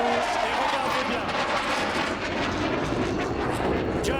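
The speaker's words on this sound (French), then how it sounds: "l'avion va repasser devant nous et regardez bien" Dassault Rafale fighter jet roaring past during an air show solo display, a loud continuous broadband engine rush filling the whole stretch, with a commentator speaking over it.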